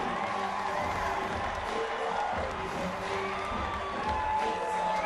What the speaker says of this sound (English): They've gone absolutely bananas here in Utah.